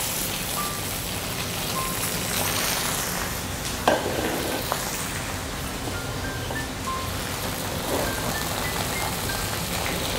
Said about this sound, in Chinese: 所以我们先来煎制黄鱼